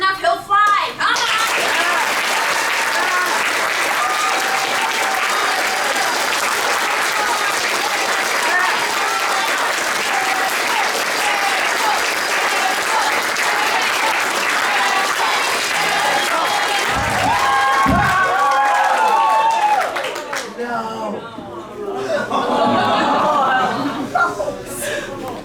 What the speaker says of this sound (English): You guys clap hard enough, he'll fly.